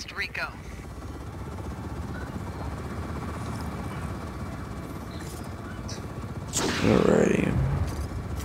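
A steady helicopter rotor drone in Just Cause 4 runs throughout, with a voice briefly rising over it near the end.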